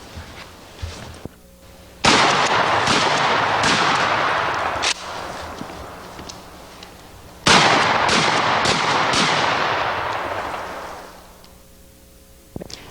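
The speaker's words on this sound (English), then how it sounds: "We've got our repeating shotgun here." A repeating shotgun fires in two loud, sustained bursts of rapid, overlapping blasts, each volley rolling on for several seconds before trailing off, with quieter gaps before and between.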